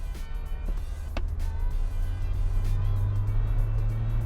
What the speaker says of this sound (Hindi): तो इसके लिए मैं 49 के आसपास एक्सीलेटर जोर से प्रेस कर दूंगा